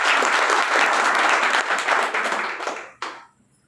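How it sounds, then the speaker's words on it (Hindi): A live audience breaks into loud, sustained applause welcoming new guests at a business meeting, the clapping dense for about three seconds before trailing off, with one last burst and then quiet. "नए मेहमानों के लिए जोरदार तालियां होनी चाहिए"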